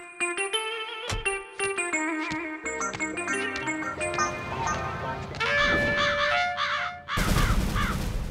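Crows caw in a Motu Patlu animated cartoon: a run of sharp, repeated caws, apparently voiced in imitation, over bright cartoon music and effects, ending in a loud burst.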